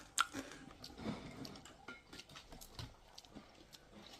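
A pet crunching on crisp dried fish, with a quick run of soft, close chewing and biting sounds, fairly quiet and steady, with no talk over it.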